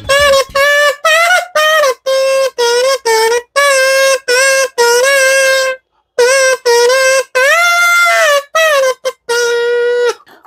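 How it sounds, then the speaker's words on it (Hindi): A kazoo played by humming gives a string of buzzy, nasal toots, short bursts and a few longer held notes with sliding pitch, loud and close with no other sounds. "ये है कजू और ये बजता है हमिंग से, हमिंग करके इसको बजाया जाता है।"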